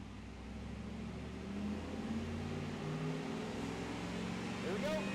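A stock 1995 Chevrolet Camaro Z28 V8 runs on a dyno, its engine droning steadily and rising slightly in pitch as it builds, with a brief higher whine near the end and some talk around it.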